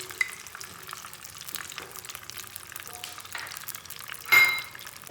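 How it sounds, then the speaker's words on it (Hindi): Cardamom seeds crackle gently in hot ghee for semolina halwa, a quiet steady sizzle with a few light clinks and a brief louder stir near the end. "इलायची को मैं 1 से 2 मिनट तक पकाऊंगी ताकि इसकी जो खुशबू है वो सारी घी में आ जाए।"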